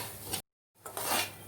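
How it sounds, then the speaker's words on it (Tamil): Semolina roasting in oil in a pan, a spatula scraping and stirring the grains with soft sizzling, close and fairly quiet, broken by a short silent gap before the stirring resumes. "ரவை நல்லா எண்ணெயிலே நல்லா ரோஸ்ட் ஆகணும்."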